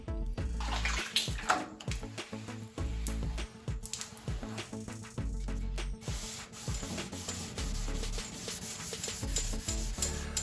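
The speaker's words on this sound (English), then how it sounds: "1500 grit sandpaper tightly wrapped around my sanding block" Steady back-and-forth wet sanding of a Chevrolet Nova's clear coat with 1500-grit sandpaper on a sanding block, close and continuous, with rhythmic scraping strokes and a slick watery texture.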